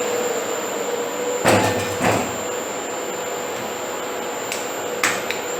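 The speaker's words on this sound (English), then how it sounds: "I'll shut the door." A door at a farm battery shed slides and shuts with a couple of rumbling, rattling bumps over a steady electrical hum and high whine, followed later by a faint knock.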